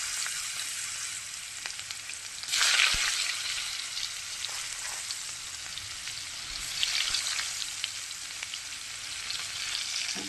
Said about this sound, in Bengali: একটু কালো জিরে ফোড়ন মাছের মধ্যে